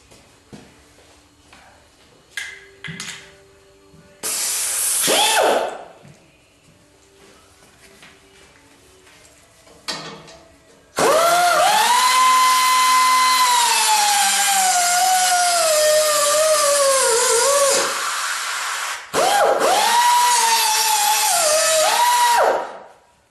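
A power tool whines loudly and at close range as it cuts a transmission line off a car. A short burst comes first, then a long sustained cut with a shifting pitch, then a final burst, separated by quieter clinks.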